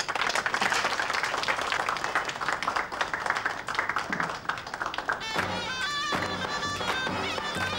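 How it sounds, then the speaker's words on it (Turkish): A group applauds in a Turkish television drama, with dense clapping for about five seconds before music takes over. "Alkış."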